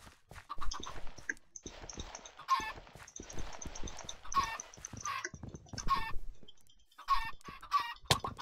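Chickens in a Survival Games video game cluck and squawk repeatedly amid scuffling and clattering, with sharp bursts breaking through a busy, close background.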